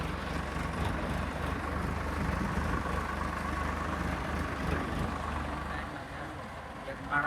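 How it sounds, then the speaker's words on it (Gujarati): An old tractor engine runs during field sowing, a low steady rumbling drone heard close and continuous beneath people talking, easing slightly toward the end. "ટ્રેક્ટર અહીંયા હાલે છે."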